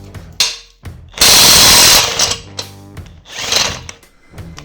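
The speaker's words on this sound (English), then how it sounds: "Just going to take off the hub nut to try and get all of these fully apart." Power tool, likely an impact wrench, removing a 46mm hub nut from a car wheel hub, loud close bursts of whirring and rattling separated by brief pauses.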